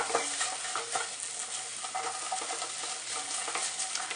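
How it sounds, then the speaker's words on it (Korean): Vegetables with a spoonful of tomato paste sauté gently over low heat for minestrone soup, giving a steady soft sizzle with light stirring scrapes close by, no voices. "페이스트는 한 큰술 정도를 넣어서 볶아줍니다."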